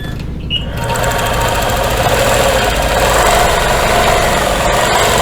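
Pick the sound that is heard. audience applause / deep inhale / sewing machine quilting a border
sewing machine quilting a border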